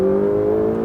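A turbocharged Ferrari 488 GTB engine, heard from inside the car, holds a high, steady, strained tone as it revs toward its 8000 rpm redline. The burst is brief and close.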